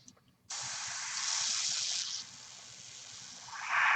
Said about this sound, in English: Being able to airbrush this, do it quickly